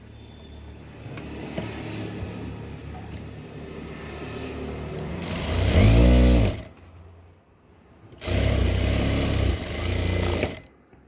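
An electric sewing machine stitches a sleeve onto a V-neck kurti in two loud bursts of rapid mechanical whirring, each a few seconds long, separated by a brief pause, with low room noise before them.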